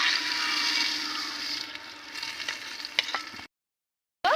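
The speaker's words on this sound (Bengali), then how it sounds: "আমি 250 মুগ ডাল নিয়েছি, দিয়ে দেব" Moong dal lightly frying in a pan with green chillies and five-spice for khichuri, a soft even sizzle with a few stirring taps that stops abruptly near the end.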